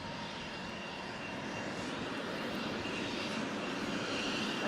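A US Air Force jet aircraft roars steadily and loudly throughout, a dense continuous broadband engine rush with no voices over it.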